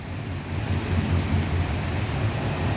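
Steady heavy rain with a deep rumbling of thunder underneath, constant and loud throughout, with no voices.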